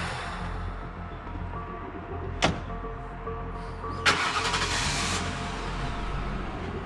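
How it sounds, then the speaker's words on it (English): A car engine turns over and catches, marked by a sharp crank at about two and a half seconds and a second loud burst near four seconds, then a steady engine hum running under a constant broadband rumble. "Get in your car, bring the car around the back."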